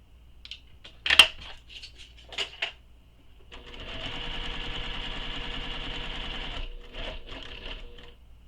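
Sewing machine stitching fabric up to a corner on a crossbody bag, a few short taps and clicks first, then a steady close rapid stitching run lasting a few seconds before brief final bursts.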